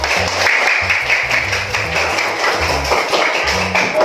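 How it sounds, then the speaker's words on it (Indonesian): Children in a classroom clap together in a quick, patterned rhythm, the sharp claps falling in repeated short groups at close range, with no talking over them. "tepuk tangan dulu"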